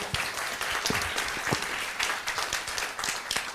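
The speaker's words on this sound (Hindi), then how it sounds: "विनय भाई के लिए तालियां बजा दो यार" Audience applause, a dense sustained wash of many hands clapping throughout, loud and continuous with no voices standing out.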